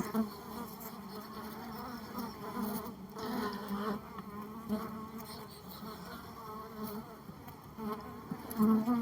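Dense, steady buzzing of many black honeybees close by at a hive that fell over, a constant drone with no voices.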